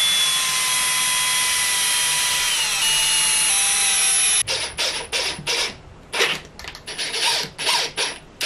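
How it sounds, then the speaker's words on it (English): Drill bit boring tuner holes in a handmade guitar headstock: a high whining power drill runs steadily for several seconds, then comes a string of short bursts as the trigger is pulsed, with no talk. "you can unscrew the front half of it, and then it just becomes a regular drill bit, and you can use that to finish off the hole."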